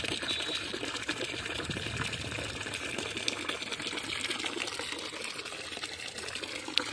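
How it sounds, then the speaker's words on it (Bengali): Water runs from a household tap in a steady faint gushing stream, continuous and even with no talk. "জল পড়ছে কিনা জানি না, তো দেখছি একবার চালিয়ে কলটা"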